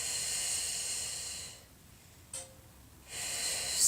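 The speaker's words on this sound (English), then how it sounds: "Hold it here 3 breaths. Inhale and exhale." Slow, deep breathing with a long airy inhale and exhale, a quiet pause between them, and a faint catch of breath in the gap, heard close and alone during an ab-focused exercise.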